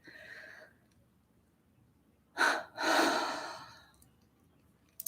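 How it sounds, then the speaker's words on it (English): A deep breath is drawn in during a conscious breathing exercise, heard as a sharp audible inhale followed by a longer, airy rush of breath. It is close and clear, with quiet surroundings before and after. "we take that deep in breath"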